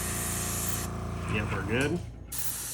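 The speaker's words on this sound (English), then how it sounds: "And get a test spray." A short hiss of thinned paint from a spray gun, a quick test burst in a garage with the door open before painting a Star Wars Armada Republic Acclamator model; a voice speaks briefly over it.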